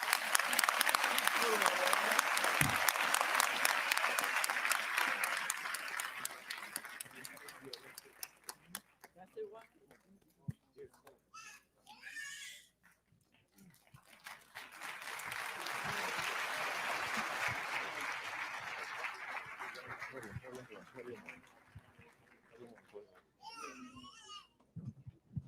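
Two waves of crowd applause at a memorial tribute to a rapper, each swelling then fading, with quiet murmuring, stray voices and scattered sounds filling the gap between them.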